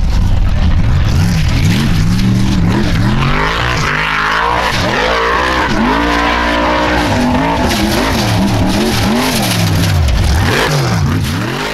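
A Formula Offroad race car on a track at Hella, Iceland, its engine revving hard and rising and falling repeatedly through gear changes, loud and close with continuous roar and no talk.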